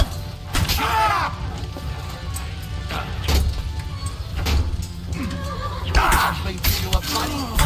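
Horses whinny and neigh repeatedly in the Kingdom Come: Deliverance 2 video game, with hooves clattering and crashing combat sounds nearby and voices talking over parts of it.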